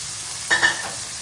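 Shallots and onions tossed into a hot oiled pan for a Kerala-style beef roast give a brief, close sizzling burst with a second flare right after, then settle into a quiet, steady fry.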